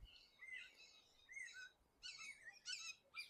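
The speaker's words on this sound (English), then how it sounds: "hawks running through the trees here. You hear all that squealing." Hawks give high, thin squealing calls from the trees outdoors, several repeated bursts, faint and somewhat distant with no talking.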